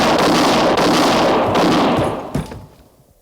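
Gunfire from a frontier-style radio drama: a loud, dense burst of rapid shots fills the first two seconds, then a final sharp crack and a fading tail into quiet.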